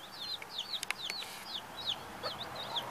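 A jungle fowl hen repeats soft, chirpy clucking calls to her chicks outdoors, a steady series of short notes over faint background hiss.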